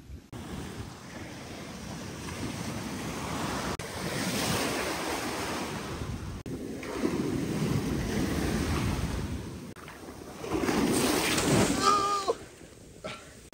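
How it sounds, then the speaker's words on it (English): Cold sea waves surge and crash close by in heavy, rolling bursts, mixed with wind buffeting the microphone and splashing water, while a person speaks near the end. "these waves are pretty punchy."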